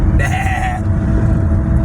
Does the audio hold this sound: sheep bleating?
yes